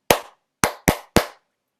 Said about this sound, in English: So I'm going to clap, and then when I point to you, you're going to copy what I just did.